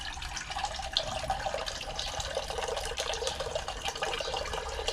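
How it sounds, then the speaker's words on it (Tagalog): Water is poured into a cooking pot in a home kitchen, a steady close splashing stream with no talking over it. "Maglagay ako ng tubig dito."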